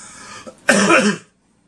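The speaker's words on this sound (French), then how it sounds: "ça va faire des jours déjà que je tousse" A single harsh cough, preceded by a short breathy throat sound, close and loud, then silence.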